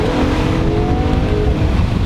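An Acura NSX Type S with a tuned ECU pulls hard under acceleration, its loud, steady engine drone rising in pitch with turbo spool layered over it, continuous and close from inside the car.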